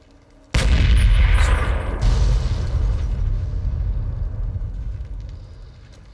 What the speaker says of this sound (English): Fucking artillery cannon.